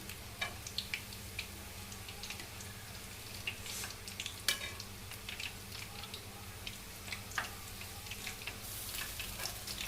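Cauliflower chilli frying in a pan and being stirred: continuous close sizzling broken by frequent light scrapes and taps of the spatula turning the pieces, fairly soft overall.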